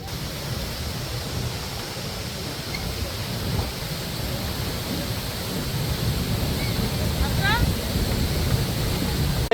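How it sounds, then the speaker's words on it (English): A waterfall roars as a boat carries passengers toward it, a loud, steady broadband rush that builds slightly over time, with faint higher calls or whistles briefly audible near the end. "He's gonna take us into the waterfall."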